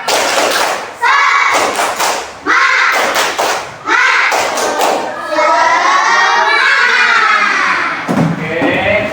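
Fourth-grade pupils in a classroom perform the tepuk semangat spirit clap: several sharp clusters of rhythmic hand claps break up loud, chanting children's voices that carry on between and after the claps.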